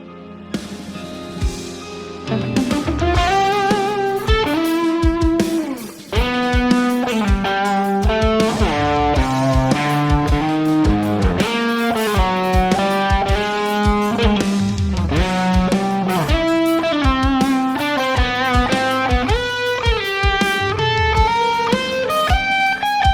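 A lead electric guitar plays a long, fast solo with bends and sustained notes, its tone lightly overdriven, loud and continuous.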